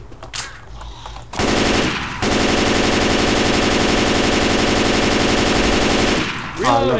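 Sustained automatic gunfire from a held trigger in the Left 4 Dead 2 zombie shooter: after a short quieter opening, a loud, dense, rapid burst runs continuously for about four seconds, then cuts off.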